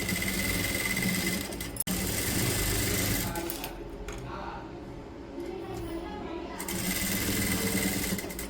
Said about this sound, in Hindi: सेम उसी तरीके से इस तरफ भी हम अपनी पूरी सिलाई कंप्लीट कर लेंगे।